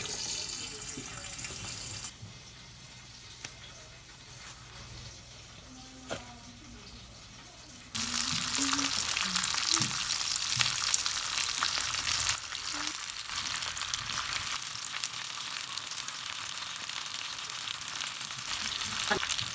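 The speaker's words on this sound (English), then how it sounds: "add some butter to the griller and just swirl it around" Butter sizzles on a griller as it is swirled around to coat the surface, a soft hiss that jumps to a loud, steady, crackling sizzle partway through and holds to the end.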